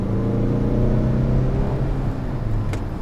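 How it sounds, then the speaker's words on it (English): Turbo spooling heard from inside the cabin of a 2016 Mazda CX-9 Grand Touring on a test drive, a loud, steady engine drone with a faint rising whine and no talking. "You can hear the turbo spooling from the inside"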